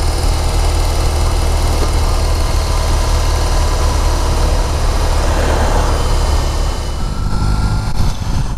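A BMW R18 First Edition motorcycle engine running on the road, a loud, constant low rumble with steady vibration and wind, easing slightly near the end, with no talking.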